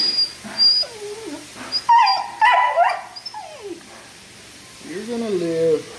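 Dog yelping and whimpering indoors during carpet repair, close and loud, with several high wavering cries and whines in bursts, and a few quieter gaps between them.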